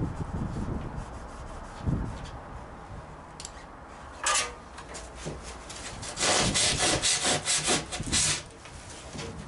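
A hand saw cuts through rigid foam insulation board such as Kingspan, Celotex or Recticel, giving quiet, uneven rubbing strokes that turn into a louder burst of rapid back-and-forth sawing near the end.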